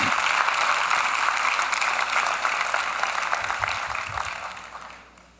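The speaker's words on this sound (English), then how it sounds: "Let's give him a big round of applause." Audience applause for a long-serving Prime Minister at a public event, a dense steady clatter of many hands that holds for about five seconds before fading out.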